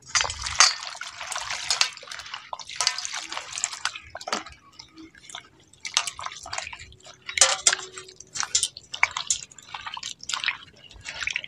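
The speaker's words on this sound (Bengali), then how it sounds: "এবার কেটে রাখা কাঁকরোলটাকে একটু ভালো করে ধুয়ে নিচ্ছি।" Cut teasel gourd (kakrol) being washed in water, with irregular drips, splashes and trickles close by and pieces knocking softly in a bowl, continuing steadily throughout with no talk.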